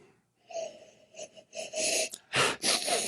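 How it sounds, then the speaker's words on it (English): Close-up sharp nasal sniffs at a glass of whiskey, a series of about six quick inhalations of varying strength, the last few loudest, with short quiet gaps between them. "It's just going to be 10 minutes of me sniffing."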